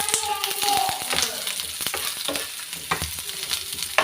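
Onions sautéing in a pan for a dry-fried meat curry, sizzling close by while a spatula scrapes and knocks in irregular strokes, with a faint voice briefly in the background.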